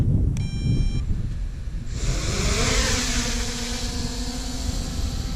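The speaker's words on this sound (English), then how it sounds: "the wind is considerably picking up here" Strong outdoor wind buffets a small budget drone's camera microphone in a low, rumbling roar, with a brief electronic beep near the start and a steady whining hum underneath, no talk.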